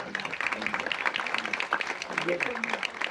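An audience at a Marathi film event breaks into steady applause, a dense wash of clapping that carries on under a voice talking over it.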